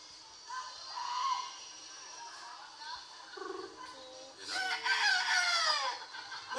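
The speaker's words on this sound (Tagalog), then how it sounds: "May manok na naman." Rooster crowing and hens clucking, the crow rising loud and close near the end, while people talk throughout.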